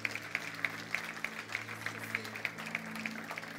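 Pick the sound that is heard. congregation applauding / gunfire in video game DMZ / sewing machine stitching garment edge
congregation applauding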